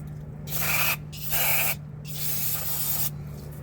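Brake parts of a 1993 Buick LeSabre being sprayed with an aerosol can in three hissing bursts, close and clear over a faint steady hum.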